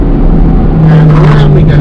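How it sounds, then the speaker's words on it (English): A Ferrari 812 Competizione V12 engine drones loudly and steadily with a rising rev near the end, close and continuous, with faint talk mixed in. "Listen to that V12 though."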